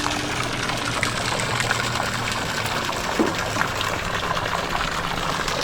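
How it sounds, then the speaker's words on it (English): An automatic livestock waterer running in a pig pen on a farm, a steady close trickle and splash of water that continues unbroken throughout. "You can see the automatic water is doing awesome."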